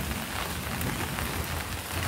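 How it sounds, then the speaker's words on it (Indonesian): Heavy rain pours steadily over an outdoor aviary site with pine and cypress trees, a dense, continuous hiss of drops hitting surfaces close by, with no voices. "Hujan deras banget nih."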